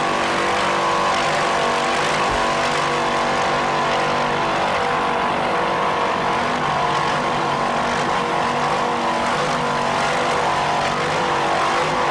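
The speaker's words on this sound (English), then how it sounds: "Let's listen to those Bandit Racing inboards" Bandit Racing inboard powerboats racing on Lake of the Ozarks in 1994, their engines roaring in a loud, sustained drone that holds steady throughout with no voices over it.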